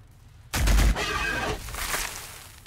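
Lascannons fire in the Warhammer 40,000 video game: a sudden loud blast after a quiet start, followed by crackling, rumbling energy discharges that slowly fade.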